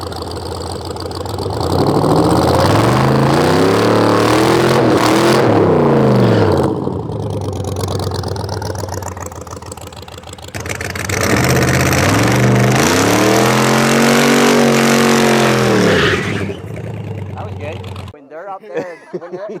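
An 1100 hp Redeye-swapped Plymouth Cuda revving hard, two long loud bursts of rising and falling engine roar separated by a lower idle, with voices talking over it.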